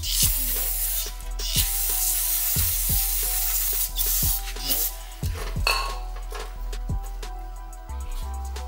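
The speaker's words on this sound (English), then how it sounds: "Get some brake clean." Brake cleaner sprays onto a transmission oil pan from a 2018 Chevrolet Silverado in a series of short, close hissing bursts mixed with metallic clanks and scrapes of the pan being handled.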